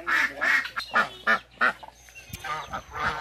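A male goose held in someone's arms gives a series of short, nasal honking calls in quick succession, close and clear, followed by a few softer calls.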